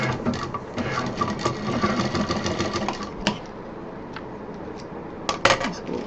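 A sewing machine stitches a party clutch potli in a steady, fast mechanical run, close and loud, with a few sharp clicks near the end as the stitching slows.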